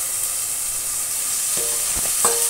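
Bitter gourd (ampalaya) in a hot pan with tomato, a continuous loud hissing sizzle with a few soft stirring scrapes near the end, no talk.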